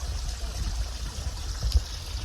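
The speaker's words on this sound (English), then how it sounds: "A good little water source here." Small trail stream trickling at a water source along the Appalachian Trail, a steady soft wash of running water close by with a brief splash near the end, no talking.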